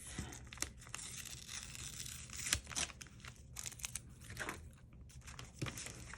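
Tape is peeled off paper pattern pieces close up, a faint, intermittent tearing and crinkling with several short rips scattered over a quiet background.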